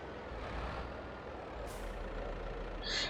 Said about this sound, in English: we'll pull this tractor out of the way actually